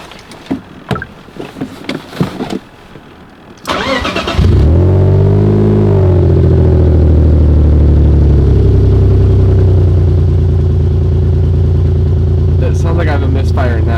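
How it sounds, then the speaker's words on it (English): A BMW E46 drift car engine with a misfire turns over and settles into a loud, steady running drone close by, after a few seconds of talk at the start. "Sounds like I have a misfire now."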